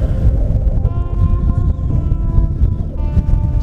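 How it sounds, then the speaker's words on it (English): Strong wind buffeting across open, misty Dartmoor moorland, a loud, rumbling, gusty roar that holds steadily throughout with faint tonal whistles above it. "Proper misty, proper windy."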